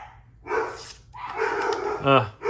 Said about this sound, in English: the dogs are not going to shut up